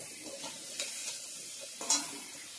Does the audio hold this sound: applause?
no